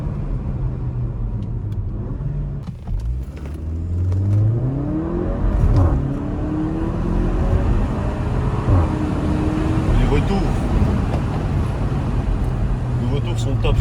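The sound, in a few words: Porsche Macan 2020 accelerating, sport exhaust engine sound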